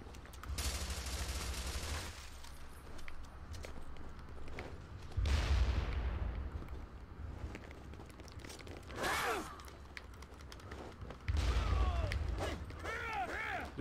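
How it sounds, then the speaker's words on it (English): Gunfire and explosive bursts in the online multiplayer shooter Devil's Third on Wii U, heavy booming blasts and scattered shots coming in waves, with brief pauses between loud volleys. "they're shooting at us"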